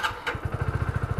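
Hero Splendor BS6 motorcycle engine starting: a brief cranking burst, then the single-cylinder engine catches and settles into a steady, evenly pulsing idle, close and fairly loud.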